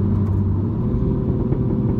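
A Mini Clubman JCW engine roars loudly up close, a thick low rumble pushing steadily through a brief burst of acceleration.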